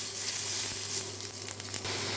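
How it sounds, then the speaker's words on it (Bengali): Nigella seeds sizzle in hot mustard-style cooking oil left from frying fish, a steady close crackling hiss with a low hum beneath and no talking. "এই তেলেই আমি একটু কালো জিরে দিয়ে দিচ্ছি"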